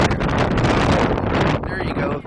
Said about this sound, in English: Yeah, it's still windy here.